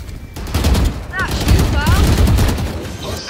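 Gunfire in the Valorant shooter, a rapid volley of loud close shots with whooshing game effects layered over it, continuing for a few seconds.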